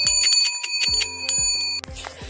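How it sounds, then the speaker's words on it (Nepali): A bell made to hang on a horse, rung by hand in a Himalayan village in Dolpa: bright metallic strikes in quick, uneven succession, each ringing on with a clear sustained tone, close and loud with no talking. "यो चाहिँ घोरालाई लगाउने घन्टा है"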